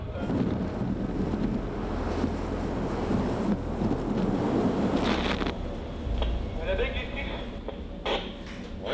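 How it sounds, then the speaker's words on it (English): Strong gusting wind at sea, around 42 knots gusting to 54, roaring steadily with buffeting microphone noise and crashing water, easing slightly near the end, with a voice speaking over part of it. "The wind has turned northwest. We've got 42 knots, gusting to 54"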